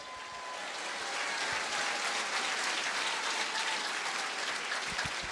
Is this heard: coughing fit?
no